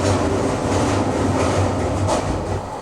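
A luxury train, the Maharajas' Express in India, rumbles along with a loud, steady roar and a low rhythmic clatter of wheels, heard from inside the carriage.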